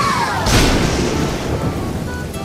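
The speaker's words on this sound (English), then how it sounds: "Look, another storm is coming." A storm with thunder and rain sweeps over a LEGO machine setup, one deep thunder boom rolling in near the start over a continuous hiss of rain, with no talking.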